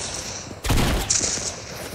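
A burst of Fortnite gunfire erupts suddenly after a quiet stretch, loud and dense with overlapping shots, then continues as sustained rattling game audio with no speech.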